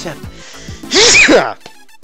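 A voice imitates a single loud, breathy sneeze, rising and bursting briefly after some soft vocal sounds, then fading out.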